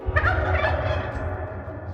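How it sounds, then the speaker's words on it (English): A turkey gobbles in a quick, rattling burst near the start, then its call trails off into a fading warble, heard alone and fairly close. "Turkeys."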